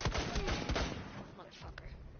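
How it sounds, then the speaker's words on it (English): Sniper rifle shots crack in a shooter video game, a few sharp reports in quick succession at the start followed by fainter echoing shots, fairly close. "enemies are outside and I'm sniping them"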